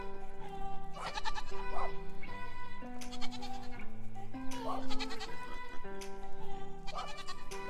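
Goats on a small farm bleat repeatedly in close, wavering cries over steady background tones.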